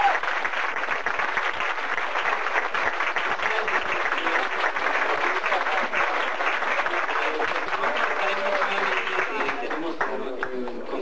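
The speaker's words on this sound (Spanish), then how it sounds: "Un aplauso, por favor." Audience applause at a live concert after a band's performance, a steady wash of many hands clapping that holds loud and even for about eleven seconds, with a voice occasionally rising above it.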